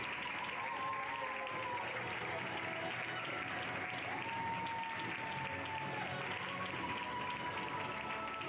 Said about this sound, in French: vous pouvez bien l'applaudir bien fort